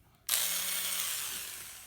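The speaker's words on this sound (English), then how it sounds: "I got tired of sanding, so I thought, hey, why not try the Dremel?" A high-pitched Dremel rotary tool sanding a sculpture whirs up abruptly and keeps running steadily, a bright continuous grinding whine close by.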